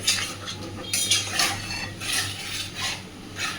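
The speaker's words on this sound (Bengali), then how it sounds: "খুব ভালো করে মশলার সাথে সব কিছুকে কষাতে থাকবো" Potatoes and prawns with spices are stirred in a pan, a metal spoon scraping and clinking in a steady back-and-forth rhythm over a faint sizzle, close up.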